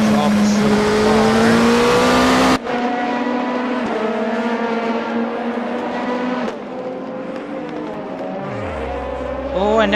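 Race cars roar through the Motegi 5-hour endurance round, a sustained engine drone shifting pitch through the gears and dropping off near the end as it fades out, with a commentator talking over it.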